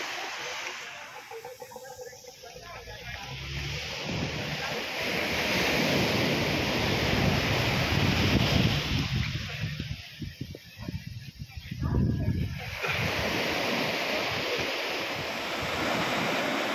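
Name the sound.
waves at the beach by the fort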